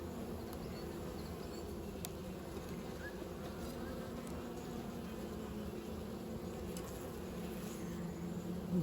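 Honeybees buzz steadily throughout an apiary during autumn feeding and winter preparation, a dense continuous hum at even loudness with no talk.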